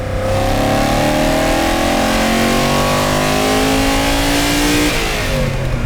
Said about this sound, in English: let's just open the taps a bit